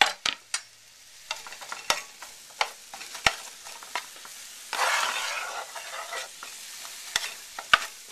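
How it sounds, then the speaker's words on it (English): About half a cup of onions sautéing in red chorizo oil in a pan: a soft sizzle that swells midway, punctuated by sharp, irregular clacks of a utensil stirring and tapping the pan, up close and without speech. "I'm going to get that sauteed up."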